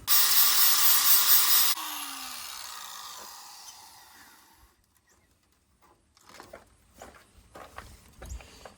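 An electric power tool grinds burrs off metal on a farm, a loud, harsh whirring burst up close that cuts off and winds down, followed by scattered quiet clunks and handling knocks.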